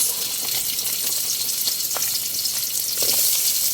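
Chopped onions hit used chicken oil in a hot pan, raising a steady, close hiss with faint crackles and a few small pops, with no talking.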